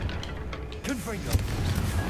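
A Confringo fire spell in Hogwarts Legacy bursts as a sudden booming blast amid a noisy battle rumble, with a short voice shout just before it and a thud shortly after.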